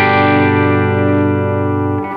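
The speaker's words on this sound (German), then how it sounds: "So, hören wir mal einfach die Gitarre clean. Das ist so ein leichter Edge of Breakup." Clean electric guitar ringing out a sustained chord with a slight edge-of-breakup grit, on an inexpensive flashy show guitar, loud and alone, fading slightly toward the end.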